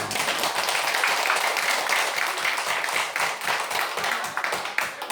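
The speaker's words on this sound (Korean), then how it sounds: "박수 한번 쳐보세요." A church congregation at an afternoon worship service claps together in a dense, continuous patter of many hands, steady throughout and fairly loud.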